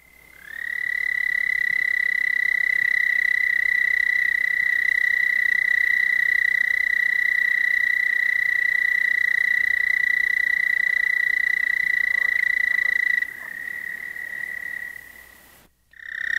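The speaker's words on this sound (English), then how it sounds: "This is the call of the American toad, Bufo americanus, at Monette, Missouri." An American toad (Bufo americanus) in Missouri gives one long, steady high trill lasting about twelve seconds, loud and close. It stops abruptly and a quieter sustained tone follows briefly.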